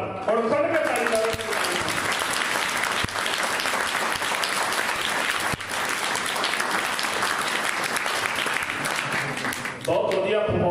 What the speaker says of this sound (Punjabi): ਹੁਣ ਖੁੱਲ ਕੇ ਤਾੜੀ ਮਾਰ